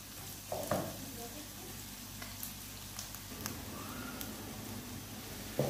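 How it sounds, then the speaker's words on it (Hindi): Carrots frying in a pan with a steady, fairly soft sizzle, broken by a few clicks and light scrapes from stirring. "अब एक मिनट इसको थोड़ा सा फ्राई कर लेते हैं"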